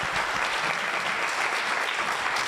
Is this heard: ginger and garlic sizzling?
no